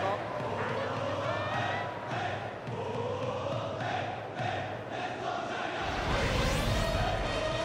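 A large stadium crowd roars and cheers continuously in a baseball video game, with a Japanese commentator's voice talking over the noise and the swell growing louder toward the end.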